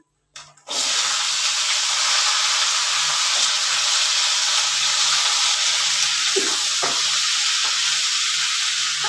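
Vegetables and greens hit hot oil with dried red chillies and lentil dumplings already frying, bursting into a loud, steady sizzle after a brief quiet start, close and continuous with faint stirring knocks.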